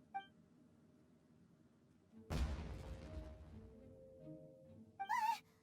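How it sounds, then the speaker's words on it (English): A single firework bursts in the Genshin Impact game with a sharp, loud boom and a crackling, ringing tail that fades over a couple of seconds, followed by a brief high musical flourish. "Was that an explosion? It sounded like fireworks."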